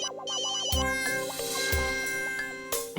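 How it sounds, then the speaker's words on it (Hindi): A mobile phone ringtone plays, a repeating electronic melody with sustained tones, steady and fairly loud, broken by a few thumping knocks. "फोन बज रहा तेरा फोन बज रहा है।"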